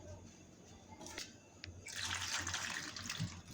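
Tap water runs steadily over mushrooms being washed in a sink, a continuous close hiss and splash that swells louder midway and carries on to the end.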